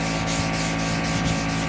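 Wet sanding a car's bodywork by hand in crossing X-shaped strokes, a close, steady, dense rasping scrub that runs without a break, with no one talking.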